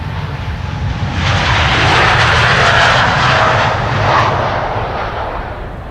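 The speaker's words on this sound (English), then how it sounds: "It's a 787-10 Dreamliner, the PH-BKH, 4 years old, first flight May 2020." A KLM Boeing 787-10 Dreamliner departing Amsterdam Schiphol, its jet engines swelling into a loud, close roar that peaks and then slowly fades as it passes.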